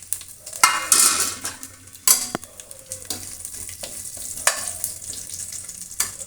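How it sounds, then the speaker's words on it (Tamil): Mustard seeds crackle and splutter in hot oil with cumin, curry leaves and dried chillies, a close sizzling hiss broken by sharp pops and a few clinks of a spoon against the pan, no voices. "கடுகு பொரிஞ்சு வருது"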